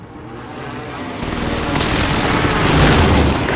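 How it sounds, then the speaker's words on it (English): Call of Duty: Modern Warfare airstrike explosions build into a loud, continuous rumble of booms and blasts, swelling stronger over a few seconds with dense crackling impacts. "Allied precision airstrike incoming."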